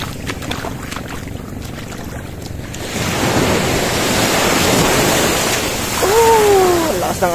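Strong ocean waves roll and crash at a beach in Ilocos Norte, a rising broadband rush of surf with wind buffeting the microphone, growing louder midway and staying steady, with a brief high tonal call near the end.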